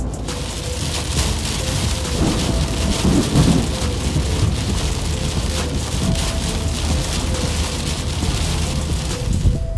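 Outdoor thunderstorm with steady rain pattering on surfaces and low rolls of thunder rumbling through, a dense continuous wash of sound with slightly heavier swells in the middle.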